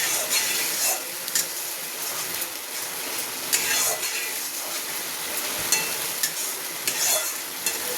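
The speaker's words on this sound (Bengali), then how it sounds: "এটাকে একটু ভালো করে নাড়াচাড়া করে নিই।" Spice paste with a pinch of sugar sizzles and fries in a pan for doi katla curd fish curry, with steady crackling and occasional scrapes and taps of a stirring spoon close by.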